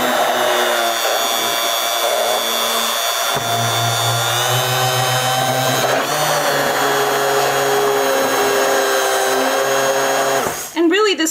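An electric mixer blends an aromatherapy spray mixture with acacia gum, giving a loud, steady whirring drone whose pitch shifts partway through before the motor cuts off near the end.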